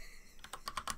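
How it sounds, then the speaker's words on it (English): Rapid typing on a computer keyboard, a quick burst of close, crisp key clicks following a brief quiet moment, with no voices. "I'm typing so quickly, my spelling is being affected."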